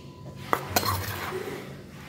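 A spoon scrapes and clinks in a bowl while scooping tapioca starch for homemade tofu sausages, giving two sharp taps and then a soft scrape close by.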